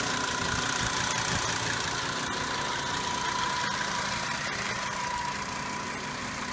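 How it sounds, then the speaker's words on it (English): A 2010 Volkswagen Jetta 2.5 SE SportWagen's five-cylinder engine idles steadily up close, a smooth, even rumble with a faint mechanical hum and occasional light ticks over a constant drone. "It's actually a 5-cylinder engine."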